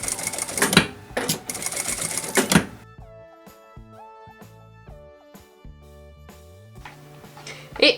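Sewing machine stitching thick fabric coasters made from scraps, a near mechanical run of rapid stitching with brief pauses as the presser foot is lifted and the work repositioned.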